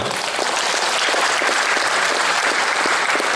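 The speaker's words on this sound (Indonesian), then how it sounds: "Tepuk tangan juga untuk para relawan." Audience applause for volunteers at a Biopori movement appreciation day event, dense steady clapping from a crowd filling the whole clip at full loudness with no talk over it.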